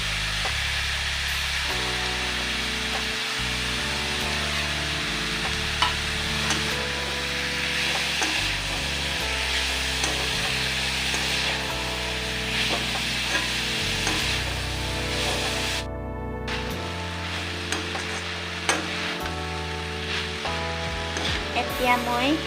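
Banana flower fry being stirred in a hot pan, a continuous loud sizzle with scraping strokes of the spoon running through it.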